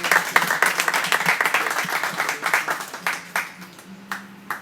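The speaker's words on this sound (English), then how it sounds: "Big round of applause for Glenn" An audience at a public program in Vrindavan claps in a dense burst of applause. The clapping is strongest at the start and thins into scattered, fading claps toward the end.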